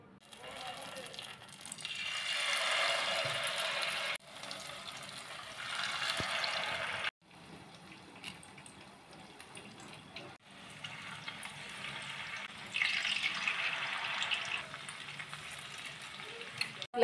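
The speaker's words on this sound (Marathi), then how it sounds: "आता याला आपण 1-2 मिनिटं असंच तळून घ्यायचंय." Batter-dipped potato rolls frying in hot oil, a soft steady sizzle that swells and fades in patches, fairly quiet with faint clinks between.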